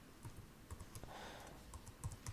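Quiet, close typing on a computer keyboard, a run of light, irregular key clicks with small pauses between them, faint and alone.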